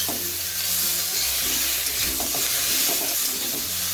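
Ridge gourd being stirred with ginger and green chili paste in a frying pan over high heat, a steady close sizzle with soft scraping strokes running throughout.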